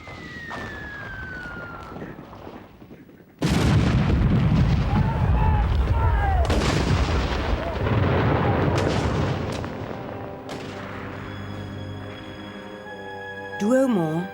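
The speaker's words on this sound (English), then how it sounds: "glowing in the distance because of the artillery bombardment" WWI artillery bombardment sound effect with heavy booming blasts and rumbling explosions that begin abruptly after a quieter opening, continuing loud and dense, with a whistling, siren-like tone toward the end and narration over parts of it.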